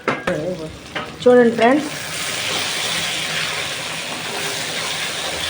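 Potatoes fry in a pan of mutton curry with a steady, close sizzle that continues on its own after a short burst of talk at the start.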